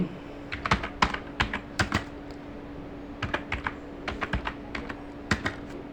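A computer keyboard clacks close up in irregular bursts of quick keystrokes with short pauses between runs, loud and clear over a faint steady hum, no voices.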